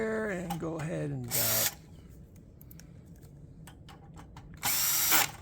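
A power drill drives screws into a Xerox PrimeLink C9070 copier while fitting a fax kit module, two short loud whirring bursts near the start and end, with a voice at the beginning and quieter handling noise between.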